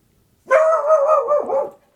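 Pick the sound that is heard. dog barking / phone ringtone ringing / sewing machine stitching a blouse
dog barking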